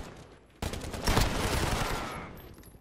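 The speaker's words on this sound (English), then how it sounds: "Nice shotgun." Gunfire from a shotgun in Call of Duty: Modern Warfare, a sudden loud blast followed by a dense roar of overlapping shots and explosions that slowly fades.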